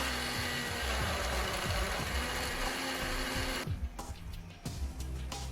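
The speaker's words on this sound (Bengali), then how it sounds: "এবং আমি এটি ব্লেন্ড করে নিচ্ছি।" Blender whirring loudly as it blends yellow watermelon with sugar into juice, a steady motor drone that cuts off abruptly, then leaves a few brief quieter pulses.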